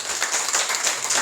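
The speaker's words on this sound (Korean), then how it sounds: "박수" A church congregation claps together during a Sunday service, welcoming newly registered members with a dense, steady round of applause that fills the room for a brief moment.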